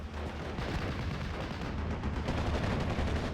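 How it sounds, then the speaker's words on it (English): An MG machine gun fires continuously during a 4v4 World War II battle in Steel Division: Normandy 44. A steady, dense rattle of shots blends with distant artillery rumble, with no talking over it. "MG271 still firing away."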